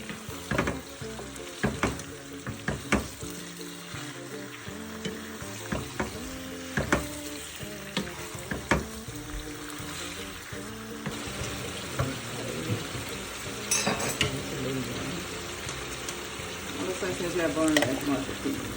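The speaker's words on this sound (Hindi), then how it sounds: "इसमें चिकन बन रहे हैं, चिकन की फ्राई करसा 3-4 मिनट" Chicken pieces frying in a pan for a simple chicken curry, a continuous sizzle with repeated spatula scrapes and knocks against the pan, close and fairly loud throughout.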